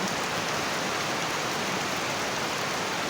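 Heavy rain pours down in a dense, loud, unbroken hiss that stays even from start to finish, with no voices or other sounds over it.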